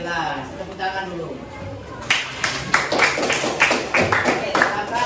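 Applause from a class after a group presentation in a classroom, a burst of clapping starting partway through and continuing steadily, loud and close, following a stretch of talking.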